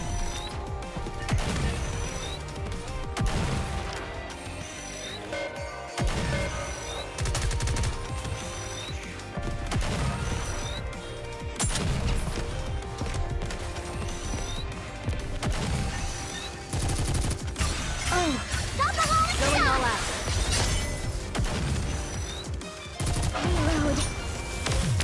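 Gunfire in the mobile shooter NIKKE during a Chapter 7 battle: continuous rapid shooting and impacts mixed with a steady game soundtrack, with repeated bursts and crashes that stay dense and fairly loud throughout.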